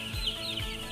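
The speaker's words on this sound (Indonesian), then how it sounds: "Saya peternak kandang ayam closed house atau kandang ayam modern." Chickens in a modern closed-house poultry coop, a continuous chorus of clucking and chirping with two low throaty clucks standing out close by over the steady flock noise.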